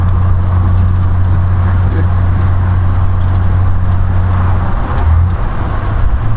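A 1971 Mk2 Triumph Vitesse driving on an A-road, a loud steady engine drone and road rumble heard from inside the car, with a brief shift in pitch as it drops out of overdrive into fourth.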